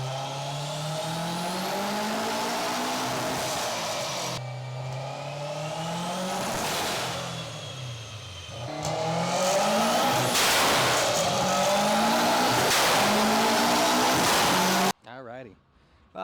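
A tuned Subaru STI making about 640 wheel horsepower on a test drive after a repair: the engine revs up and climbs through gears in loud, rising sweeps, pausing between shifts before cutting off near the end.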